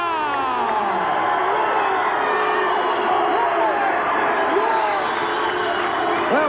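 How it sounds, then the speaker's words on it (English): A boxing crowd in an arena in San Jose gives a mixed reaction, a sustained roar of voices with whoops and calls, loud and dense throughout, likely with other voices mixed in. "Chris Brinkerhoff with a mixed reaction from the crowd here in San Jose"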